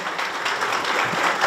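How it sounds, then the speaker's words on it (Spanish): Applause from an audience at a sports awards ceremony for an artistic roller skating school, a continuous wash of many hands clapping at even loudness, full and moderately close. "fuerte el aplauso para la Escuela de Patín Artístico"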